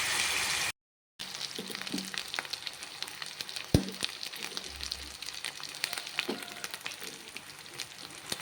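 Onion paste fries in hot oil with curry leaves, ginger-garlic paste and turmeric for a chicken curry, giving a steady close crackling sizzle with occasional stirring clinks after a brief silent gap.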